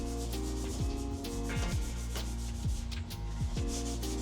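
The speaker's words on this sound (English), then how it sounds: "We got straight to sanding it down in preparation for another coat" Steady abrasive rubbing of sanding across the painted body of a Land Cruiser, continuous and close, with a low droning hum underneath and no voices.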